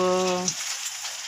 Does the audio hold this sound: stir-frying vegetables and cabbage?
yes